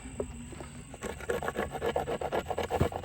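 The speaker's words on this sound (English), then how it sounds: "now we can file this down" A file rasps back and forth across wood, smoothing down a halved joint; after a quieter opening second, rhythmic close strokes repeat steadily and grow louder.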